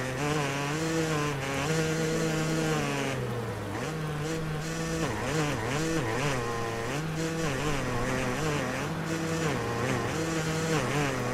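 A Yamaha YZ250 two-stroke dirt bike in the MXGP Pro video game, on a wet track with its rear wheel spinning, gives a loud, continuous buzzing engine note whose revs surge and dip repeatedly throughout.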